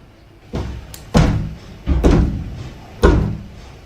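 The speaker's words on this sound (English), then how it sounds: "I've been hearing banging for a good little while now. It comes from the bathroom door over there and then from the front." A bathroom door bangs four times at irregular intervals, loud close thuds that ring out briefly after each hit.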